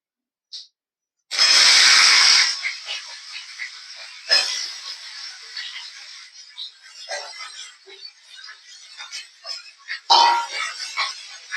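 Potatoes frying in a small amount of oil with whole cumin and broken dry red chillies, a loud sudden sizzle bursting in as they hit the pan, then settling into a steady crackling hiss with fresh flare-ups.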